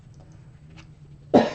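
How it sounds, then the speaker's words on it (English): A single close, sharp cough bursts out at the end after a quiet stretch with faint room noise. "Almost always cough during the reading."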